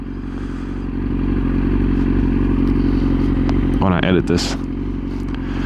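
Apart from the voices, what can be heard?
Yamaha R6 motorcycle engine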